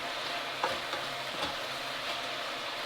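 Onions sizzle and fry steadily in a pan for French onion soup, a continuous close hiss with a few soft stirring scrapes and no talk.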